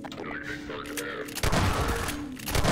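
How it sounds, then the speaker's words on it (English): Grenade launcher blasts in Half-Life 2: loud booming explosions with crackling debris, a heavier burst hitting midway and another near the end, over game sounds and a voice talking. "Oh hey, the grenade launcher worked."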